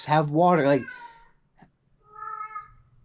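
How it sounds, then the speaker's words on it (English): A pet cat gives a couple of drawn-out meows at home, the first loud and wavering, the second fainter and higher, while a person talks briefly at the start. "that's my cat. He's perfectly fine. He just likes meowing."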